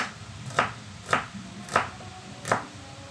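Onions are chopped on a board with four evenly spaced knife strikes, each a crisp close thud, with a quiet room tone between the cuts.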